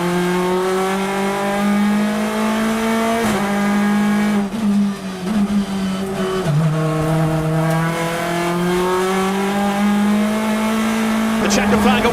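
British Touring Car Championship cars race at Oulton Park, engines holding a loud, sustained high whine with gear shifts and revving swells as cars pass close by, under continuous commentary.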